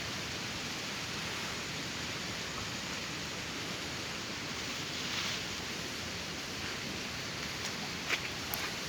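Rainwater pours steadily down a road in Goa after heavy rain, a broad, even rushing wash that stays constant and fairly loud throughout with no pauses.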